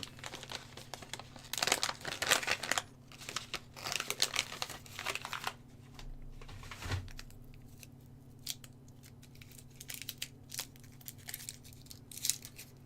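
Close, quiet crinkling and rustling of a small cough drop wrapper in short bursts, with brief tearing sounds and pauses between.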